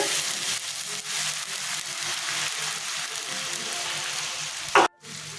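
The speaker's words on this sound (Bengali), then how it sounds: "আদা লঙ্কা কষানো হয়ে গেছে" Ginger and green chili sizzle steadily in a hot pan with a dense, even crackle, broken by a brief louder clatter and a sharp cutoff near the end.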